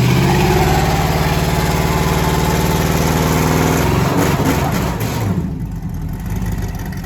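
A 1986 Pontiac Grand Prix G-body with a swapped LS engine roars at high revs in first gear while held on a line lock for a burnout, a loud steady snarl that breaks up and drops in tone near the end.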